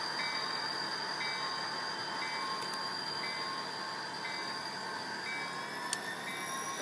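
A Bachmann HO-scale SD40-2 model locomotive's small electric motor whirs steadily with high, thin tonal whines and faint track rattle, fairly quiet, ending with a soft click.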